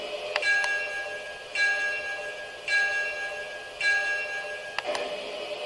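A Lionel LionChief O gauge Chicago & North Western freight locomotive's electronic bell rings in four separate bursts, each a bright metallic tone that sustains about a second and then cuts off, with a sharp click near the end.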